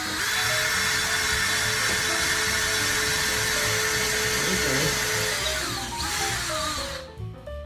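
Power drill boring into a drywall wall during a living room makeover, a steady high-pitched whine held for about six seconds and then winding down to a stop.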